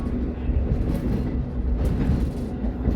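The KA Ijen Express passenger train runs between Banyuwangi and Blitar, a steady low rumble heard from inside the carriage with faint rhythmic rail clatter.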